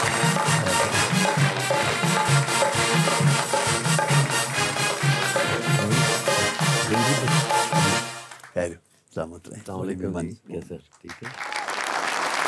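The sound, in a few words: audience applause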